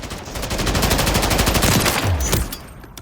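Full-auto gunfire from a weapon with a 50-round drum in Call of Duty: Modern Warfare III, a loud, rapid, continuous burst lasting over two seconds before cutting off.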